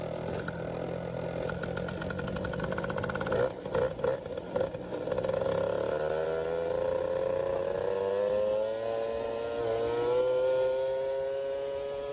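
An MBK Magnum Racing XR moped with a heavy variator rides along a road, its small two-stroke engine droning steadily and slowly climbing in pitch as it picks up revs, loud and close throughout.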